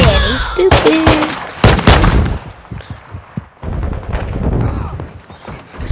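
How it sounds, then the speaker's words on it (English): Gunfire in Call of Duty: Modern Warfare II gun game mode, a couple of loud sharp shot bursts early on, then fainter scattered impacts and mid-level game noise. "Hold on, this kid's shooting at me"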